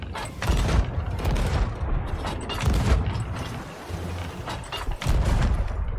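Ship cannons fire in the pirate game Sea of Thieves, a dense run of heavy booms and blasts with rumbling low end, loud and continuous over the whole stretch.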